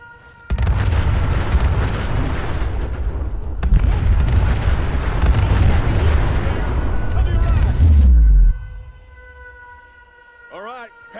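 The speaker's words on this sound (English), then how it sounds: "Looks like the gunners took the bait. Look, they're firing!" Gunners in the Fallout 4 video game fire their weapons in a long, loud, continuous barrage of booming shots that stops abruptly, leaving quieter ambient tones and a brief sweep at the end.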